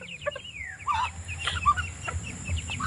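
A red junglefowl (labuyo chicken) clucks while being hand-fed from the palm, giving several short close clucks and calls over a low background hum, with no talk.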